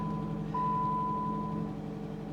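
A Chrysler 200 convertible with about 137,000 miles and a lit check engine light, shifted into reverse; a steady electronic chime tone sounds over the low idle hum of the car interior, fairly quiet and brief.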